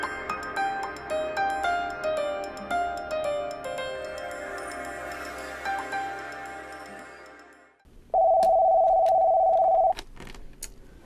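An office telephone on a modern phone system rings with a single steady electronic tone lasting about two seconds. It comes after a stretch of background music, and no one speaks.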